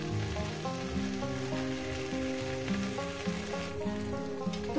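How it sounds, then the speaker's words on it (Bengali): Water spinach greens frying with prawns in a pan give a steady, soft sizzle under a layer of tonal background music, held evenly throughout with no talk. "শাক ভাজাটা আরও 2-3 মিনিট লাগবে আমার ভাজতে।"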